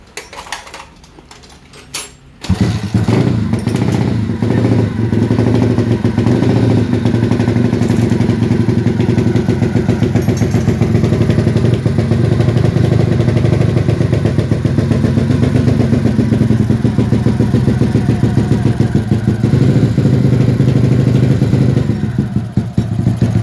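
A Yamaha Jupiter MX motorcycle with a 229cc engine fires up after a few faint clicks and settles into a loud, steady, close idle with a rattly mechanical clatter.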